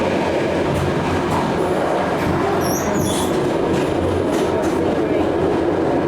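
Train riding through scenery on the way to Flam, Norway: a steady, loud rumble of the carriage and wheels fills the whole stretch, with a brief high squeal of the wheels partway through.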